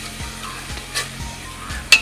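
Crushed ginger and green chili sizzle steadily in a hot pan, with a spoon scraping and stirring at a regular rhythm and a brief sharp clink near the end.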